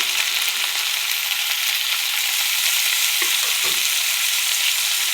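Onions fry with freshly added turmeric while being stirred, giving a loud continuous sizzle up close with a couple of soft scraping strokes near the end and no talking.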